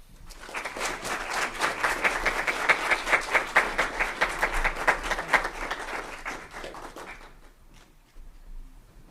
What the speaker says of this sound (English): let's give it one more round of applause to former Mayor Weinberger